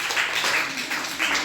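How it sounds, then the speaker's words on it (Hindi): School students clap together in a classroom, dense, even applause that holds steady and close for the whole moment, with no speech over it. "उसके लिए तालियां बजाओ भाई"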